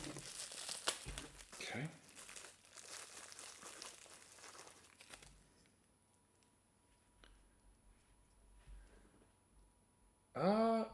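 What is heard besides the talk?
packaging being cut open around a miniature figure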